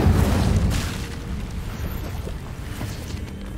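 Incendio fire spell cast in the Hogwarts Legacy video game, a loud deep whooshing roar with a rumbling low boom that swells at the start and then sustains steadily, with no voices over it.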